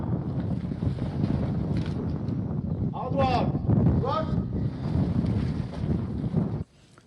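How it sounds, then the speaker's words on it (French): Steady wind roars and buffets across the microphone outdoors while a person calls out short commands partway through. "j'entends le vent qui souffle."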